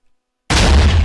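A TNT cannon in the video game Minecraft fires a launch of five TNT charges: after silence, one sudden loud booming blast that rumbles on without fading.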